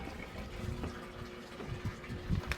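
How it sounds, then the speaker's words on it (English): Water from a fountain feature at the entrance of a new-build house in Las Vegas splashes and trickles steadily, faint and close, with no voices over it. "Notice the water features off to the right when we first come through."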